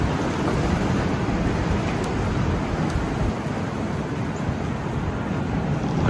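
Steady, strong wind rushes over a microphone outdoors in a garden during a storm, a dense, continuous roar with only slight swells in loudness.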